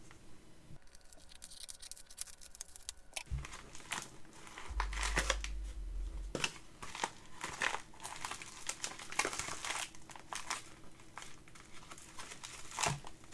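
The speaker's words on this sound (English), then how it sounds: "We'll just cut it with scissors." A mail package is cut open with scissors, producing close, crinkly crumpling and rustling of packaging with scattered snips and taps throughout.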